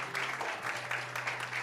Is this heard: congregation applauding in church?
yes